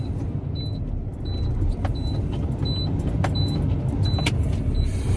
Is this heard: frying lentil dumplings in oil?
no